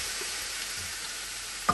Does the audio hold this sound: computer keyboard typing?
no